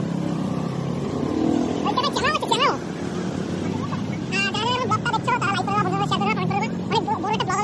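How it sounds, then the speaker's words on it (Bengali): A boat motors past on the water near the beach at Digha, its engine a continuous drone under loud, close voices talking over it. "দেখুন এই যে বোট যাচ্ছে, বোট যাচ্ছে"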